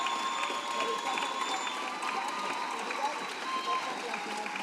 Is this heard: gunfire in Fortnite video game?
no